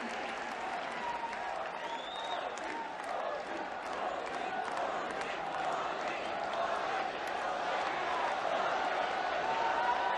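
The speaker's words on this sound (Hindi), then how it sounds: "आइए जोरदार तालियों के साथ आमंत्रित करते हैं" Sustained applause from a large crowd welcoming Prime Minister Narendra Modi at a public event in Kutch, Gujarat, steady and dense throughout with scattered cheers.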